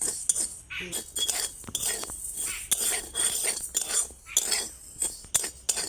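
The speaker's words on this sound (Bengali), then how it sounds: "সেই চা পাতি এবার এটাকে ভালো করে ভেজে নিচ্ছি" Dry tea leaves are stirred and fried in a pan, making quick metallic scrapes and clinks of a spatula against the pan. The close, uneven strokes follow a busy stirring rhythm.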